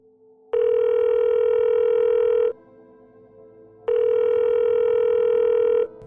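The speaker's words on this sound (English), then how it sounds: "the noise of a phone ringing interrupts the tape" Two long electronic telephone ring tones, each about two seconds, separated by a pause, sounding slightly muffled as played back from a tape recording.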